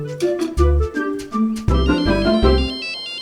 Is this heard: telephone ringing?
yes